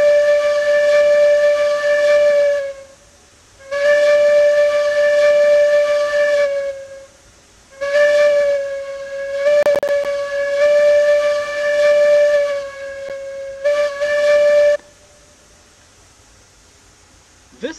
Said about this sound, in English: Here is Betsy's whistle performing the crossing grade sequence.